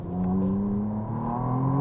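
A 2025 McLaren Artura Spider in full manual mode pulls away from a standstill without launch control, its engine note rising steadily and droning close and loud for a couple of seconds, with no voices.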